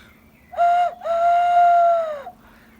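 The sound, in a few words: imitation of an owl hooting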